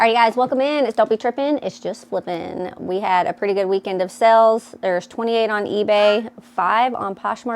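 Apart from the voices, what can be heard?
No everyday noise stands out behind the speech.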